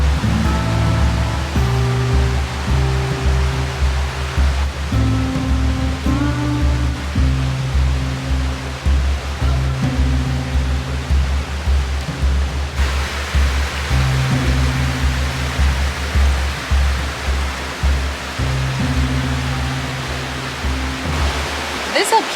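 Near Multnomah Falls in Oregon, a river rushes past in a continuous, steady roar close at hand, with low rumbling tones threading through the water noise.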